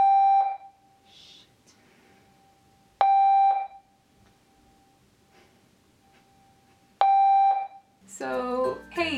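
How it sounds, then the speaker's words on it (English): A fire alarm in an apartment building sounds in three loud, shrill electronic beeps spaced a few seconds apart, with quiet gaps between them and a voice speaking at the very end. "the fire alarm in my building decides to go off"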